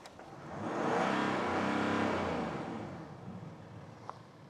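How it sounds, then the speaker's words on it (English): A BMW X4 M40d diesel engine in comfort mode revs up from idle, swelling to a loud sustained roar for about a second before easing back down to a low idle. "if we leave the car in comfort mode and let's rev it, let's hear it"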